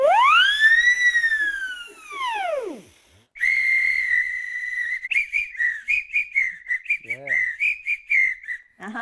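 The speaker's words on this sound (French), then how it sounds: "On peut approcher les sifflets et les divers petits instruments à bouche." Small mouth whistles are blown one after another: a long rising and falling glide, then a steady high tone, then a rapid run of short chirping bursts, bright and close.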